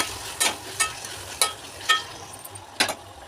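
Ginger garlic paste and turmeric fry in a pan, a soft steady sizzle broken by five sharp stirring clacks at roughly half-second to one-second gaps, close by and with no talking.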